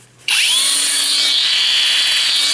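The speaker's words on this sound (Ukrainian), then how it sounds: "Але от коли ви включаєте болгарку" ProCraft cordless angle grinder switching on after a quiet moment, its motor spinning up quickly to a loud, steady high-pitched whine that holds for over two seconds.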